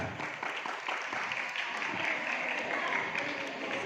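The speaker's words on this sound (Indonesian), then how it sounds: "Tepuk tangan buat Arya." Classroom applause for a student called to the front during a school visit by an education official; faint, steady clapping from a group of children, somewhat distant, with a low murmur of voices.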